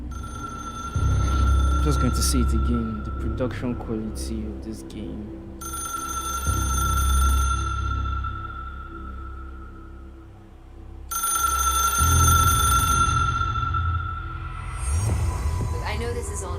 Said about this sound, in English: Oh wow, that was actually a phone ringing.